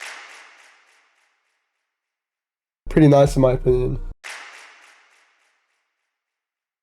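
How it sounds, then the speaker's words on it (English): A hip-hop beat's clap sample in FL Studio sounds twice, each a crisp burst with a short decaying tail, separated by a few seconds of someone speaking. "So this is what the clap sounds like."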